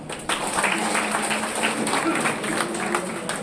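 Audience at a Delhi organizational meeting clapping steadily and densely, a sustained wash of applause close by with some voices mixed in.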